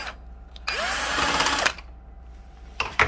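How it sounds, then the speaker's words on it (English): A power screwdriver whirs for about a second as it backs out a screw from the cover of a Konica Bizhub copier, with shorter motor bursts before and after, close and fairly loud. "to remove the feed assembly, we're just going to remove these two screws here, right on left and right"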